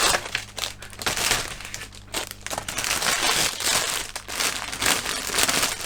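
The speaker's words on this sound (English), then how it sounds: "Super crinkly, peely, sticky bag." A sticky, crinkly plastic parts bag from a Dora Wings 1/48 Curtiss-Wright AT-9 Jeep model kit is peeled open up close, giving continuous loud crackling and crumpling with sharp bursts throughout.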